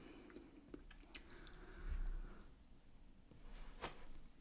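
Close chewing of Michigan windmill cookies, with soft crunching and moist squishing bites at an irregular pace, quiet and intimate, a heavier crunch near the middle.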